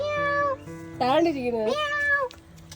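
A cat meows loudly and close, a drawn-out wavering meow followed by a second long one, with faint background noise between.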